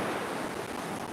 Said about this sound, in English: the wind picked up, it got wavy.